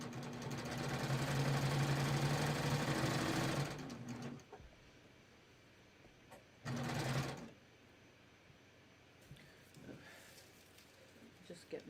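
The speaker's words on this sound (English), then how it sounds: "I'm trying to sew straight." A sewing machine runs a cover hem on a T-shirt in a steady burst of several seconds, then one shorter burst after a pause, close by, with a person speaking around the stitching.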